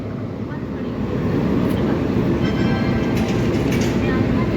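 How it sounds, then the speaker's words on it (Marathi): The Sachkhand Express stands at Nanded's platform 1 with a Ludhiana-shed WAP7 electric locomotive, giving a steady, loud rumbling hum that swells after the first second, with faint higher clatters above the drone. "लुधियाना शेडच्या WAP7 सोबत मित्रांनो आपली सचखंड एक्सप्रेस प्लॅटफॉर्म नंबर 1 वरती लागलेली आहे नांदेड येथे"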